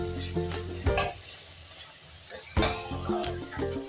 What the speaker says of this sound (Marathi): आपल्या कांद्याला हलकासा गुलाबी रंग यायपर्यंत हे छान आपण परतून घ्यायचं आहे